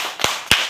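A group claps out a rhythmic clapping chant, two loud, sharp claps sounding close by with a short gap between them.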